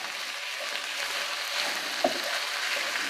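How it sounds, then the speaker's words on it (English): Chicken thighs sizzle steadily while frying in a pot for a one-pot cheesy broccoli chicken rice casserole, a continuous close crackle with a single brief clatter partway through and no talking. "You hear that sizzle?"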